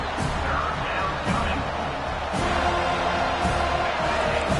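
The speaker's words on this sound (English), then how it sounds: "Decibels rising as the crowd gets behind this defense on 3rd down." A football stadium crowd roars steadily behind a defense on third down, a dense, continuous wall of cheering and noise with a commentator's voice running over it.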